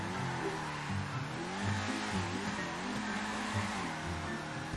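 A Grotti GT500 car engine in GTA 5 Online revs and drones loudly with rising and falling pitch while tires squeal, a continuous racing vehicle sound with no talking.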